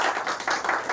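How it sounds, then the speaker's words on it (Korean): Lecture audience applauding the introduction of a professor, a one-second burst of steady, fairly loud clapping from a crowd with no voices over it. "큰 박수 부탁드리겠습니다."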